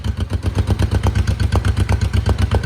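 Honda CB350 twin motorcycle engine idling close up at about 1100 rpm with freshly tuned carburetors, a steady, even, throbbing exhaust pulse with light mechanical clatter.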